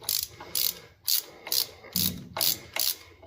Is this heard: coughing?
no